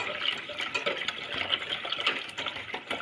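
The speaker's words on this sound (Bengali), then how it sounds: "এবার জল দেবো" Water pours into a bowl of mixed gram flour batter for kadhi pakora, a short splashing, gurgling stream that runs continuously for a few seconds, close and moderately loud.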